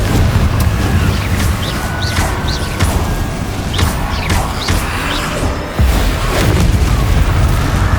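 A Confringo blast spell explodes during Hogwarts Legacy combat: a loud, dense booming rumble with several sharper bursts and crashes layered over a constant heavy roar of battle effects.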